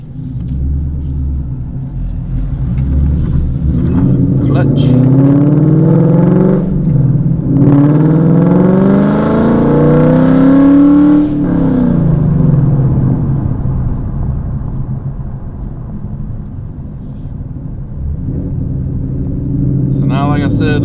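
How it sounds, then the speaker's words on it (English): A 2016 Ford Mustang fitted with Baer drag brakes accelerates hard on the road, its loud engine rumble sweeping up through rising revs with gear changes, then easing to a lower drone. "I hope nobody says anything because the car's kind of loud"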